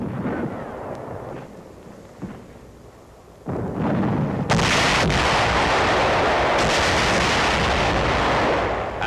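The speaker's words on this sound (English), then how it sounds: "the men lay satchel charges to mop up the cave still holding out" Satchel charges exploding in a wartime cave with tanks covering: heavy, booming blasts, a sharp thump then a bigger roar that swells into a sustained loud rumble, distant and reverberant, with no voices.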